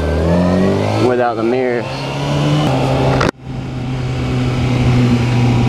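Motorbike engine on a ride, with the mirrors removed, humming loud and close with a quick rev and a sharp dip partway through, while the rider talks over it the whole time.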